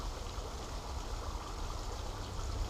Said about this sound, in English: Got a little culvert pipe with some running water.